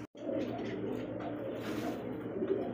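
A fantail pigeon coos softly in a steady, low, rolling murmur, fairly faint against background noise.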